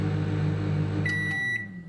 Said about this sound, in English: Microwave only for 1 minute 30 seconds.